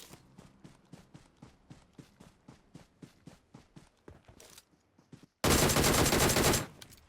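DP machine gun fire in PUBG Mobile, a rapid regular burst of about twenty distant-sounding shots, a brief pause, then a loud close blast of sustained noise lasting about a second.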